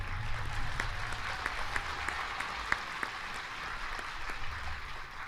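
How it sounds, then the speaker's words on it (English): Audience applause at an Army Basic Combat Training graduation ceremony at Fort Jackson, South Carolina: a steady, dense wash of many hands clapping, heard from a distance, with a few sharper claps standing out over about five seconds. "that gets a good round of applause right there"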